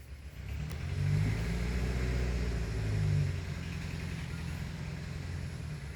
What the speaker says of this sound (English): The Buco truck behind me.